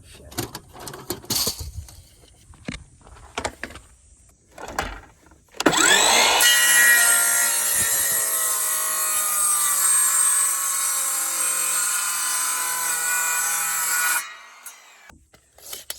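A wooden board for a table is cut with a hand saw, a steady rasping stroke that starts after scattered handling knocks and runs loud and continuous for several seconds before stopping.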